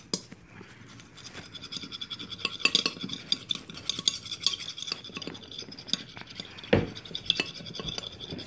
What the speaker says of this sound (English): you just want to mix it up, make sure it's all mixed in good, scrape it off the sides